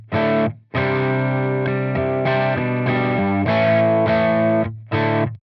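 Distorted electric guitar chords through a Tonex overdrive tone model ring out loud and thick, played in sustained bursts separated by short pauses, dry with no reverb.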